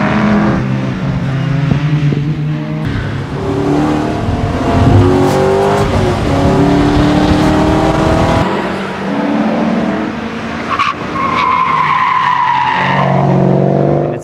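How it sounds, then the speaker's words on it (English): An S197 Mustang GT race car with Maximum Motorsports suspension and a cold air intake runs hard, its engine roaring and rising in pitch, tires squealing loudly through corners, with no voices. "It's an S197 Mustang GT, maximum motorsport suspension, cold air kit on the engine,"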